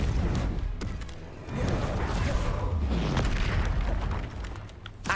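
A Depulso force spell goes off in a Hogwarts video game: a deep, rumbling blast with crackling debris and mechanical clatter that swells and sustains for several seconds before cutting off.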